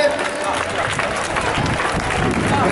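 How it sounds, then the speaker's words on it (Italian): Crowd applause at a youth football tournament for under-13 seven-a-side teams in Tuscany, a steady wash of clapping and crowd noise with voices mixed in throughout. "Un applauso alle squadre."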